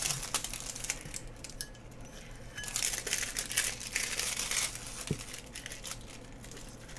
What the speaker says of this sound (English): So just peel your stickers off